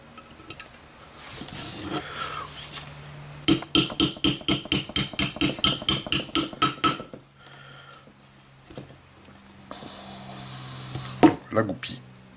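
A steel hammer taps a pin punch to drive out a pin while disassembling a Manurhin MR88 revolver, with about fifteen quick, evenly spaced metallic strikes close by, alone between stretches of quieter handling noise.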